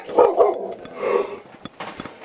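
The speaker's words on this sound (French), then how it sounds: "excusez-moi pour le chien" A dog barks indoors in several sharp, irregular barks, close and fairly loud, without speech.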